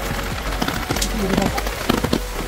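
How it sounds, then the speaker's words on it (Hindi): Steady rain patters hard and close in Yumthang Valley, Sikkim, with scattered sharp drops and splashes; a voice speaks faintly underneath. "बारिश रुक नहीं गई है"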